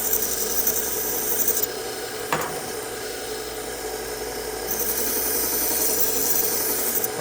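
A blade gets one more sharpening pass, a raspy filing and rubbing stroke with a short sharp scrape in the middle and a faint hum under it.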